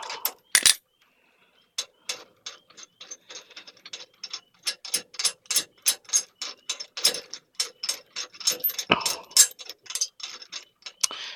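A ratchet wrench loosens a trailer jack with bursts of rapid, close metallic clicking, pausing briefly and then resuming in a steady rhythmic run.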